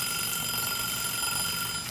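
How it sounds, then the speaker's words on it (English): A kitchen timer going off in a home kitchen during veggie burger preparation, a continuous steady high electronic ringing that holds for the whole stretch, loud and close with no talk over it. "there's the timer."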